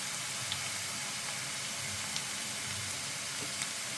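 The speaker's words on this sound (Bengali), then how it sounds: "এক এক করে সব মশলাগুলো আমি দিয়ে দেবো এবার তেলের উপরে" Red chilli, cumin-coriander and turmeric powders sizzle in hot oil with a faint, steady hiss and the odd tiny crackle.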